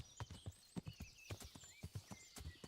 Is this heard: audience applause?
no